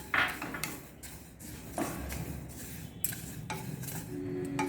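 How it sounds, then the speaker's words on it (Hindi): Sesame seeds roast in a hot pan while being stirred constantly, giving quiet scraping and rustling strokes at an irregular rhythm, with a few light metallic clinks and a soft sizzle underneath. "एक मिनट चलाते हुए इसको भूनेंगे, लगातार चलाएंगे जिससे इसका कलर खराब ना हो।"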